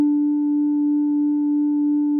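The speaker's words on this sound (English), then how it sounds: "I'm going to turn off the sine wave and turn on the triangle wave." A steady synthesizer triangle-wave oscillator tone holds one constant pitch for about two seconds, clean and alone, with no talking.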